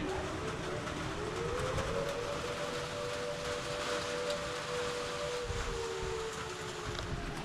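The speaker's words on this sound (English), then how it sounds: "I don't know if you hear that. There's a big ass siren." An emergency siren during flooding in a rainy area sounds as a long wailing tone that rises and then slowly falls, moderately distant, over a steady rumble of rain and background noise, with no talk.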